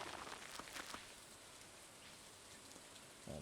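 Steady rain falls throughout a Stardew Valley farm scene, a dense even hiss with a few soft patters of drops, continuous and alone with no talking.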